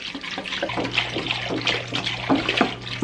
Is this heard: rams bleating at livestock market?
no